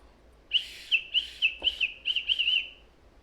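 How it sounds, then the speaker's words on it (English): A safety whistle from a truck emergency kit is blown in a quick series of about seven short, shrill, chirpy blasts with small pauses between them. The blasts are close and clear, with no talking. "Let's see if the whistle works."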